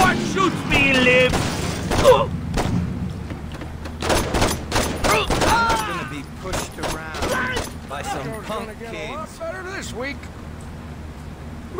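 Rapid bursts of gunfire from the Saints Row video game crackle throughout, loud and close, mixed with impacts and game effects while voices talk over the shooting.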